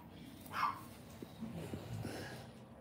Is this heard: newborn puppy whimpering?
yes